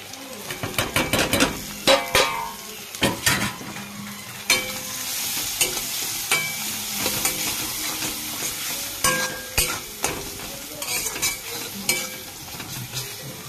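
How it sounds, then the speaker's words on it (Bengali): Powdered spices frying in oil with ginger and tomato for a Bengali rohu fish curry with eggplant: a soft sizzle under repeated clattering scrapes and knocks of a spoon stirring in the pan, close and busy, no talking. "এবার মশলাগুলো, গুঁড়ো মশলাগুলো দিয়ে দেবো"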